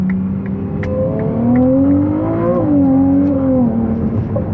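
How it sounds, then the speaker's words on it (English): A 2024 Ferrari 296 GTB engine pulls hard under early throttle, its tone climbing smoothly, dipping with a shift and rising again, loud and close from inside the car with no talking. "even though I'm getting on throttle early, the car's still putting the power down"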